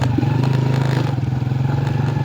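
A motorcycle riding along a rough, unfinished bypass road with drainage works alongside, its steady engine drone loud and close throughout, mixed with clattering and scraping from the uneven surface.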